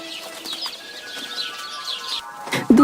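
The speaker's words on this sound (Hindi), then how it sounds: "दूसरे दिन सुबह में कोयल आकर कूकने लगती है।" An Asian koel calls in the morning in an animated setting: several tonal bird calls and coos ring out over a busy background, ending in a sharp, louder burst.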